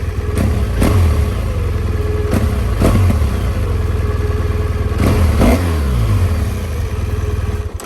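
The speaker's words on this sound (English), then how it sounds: "You can see it revs up pretty darn high." A 2017 BMW R1200 GSA boxer twin motorcycle engine idles loudly nearby and is revved several times, each blip rising sharply in pitch before dropping back to a rumbling idle.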